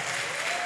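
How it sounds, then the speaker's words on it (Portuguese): Church congregation applauding its leadership during a conference service: a brief, loud burst of dense clapping and cheering from a large crowd, heard on its own. "Dê uma forte salva de palmas pela liderança"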